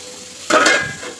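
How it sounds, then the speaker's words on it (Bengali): Eggs frying in a pan for an egg curry: a sudden loud burst of sizzling as they hit the hot oil, then a steady crackle that slowly fades, with no talking. "দেখো ডিম ভাজা ভাজা করে নিলাম"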